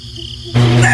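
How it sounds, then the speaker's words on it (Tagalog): Crickets chirp in the countryside at night, a steady high insect trill that turns much louder and denser halfway through, with no voices. "mga kuliglig lamang ang umaalingaw-ngaw sa paligid"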